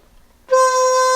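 One bamboo flute note, tuning joint pulled out, starts abruptly and holds steady, bright and breathy, playing alone.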